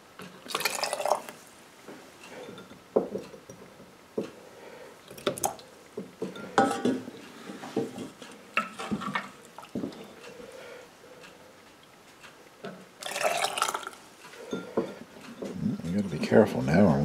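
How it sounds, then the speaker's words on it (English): Brine is poured into a quart jar of quail eggs with intermittent splashing and gurgling pours, glass clinks and drips, close by, interspersed with quieter pauses. "Careful now, I'm going to have brine coming out the top here"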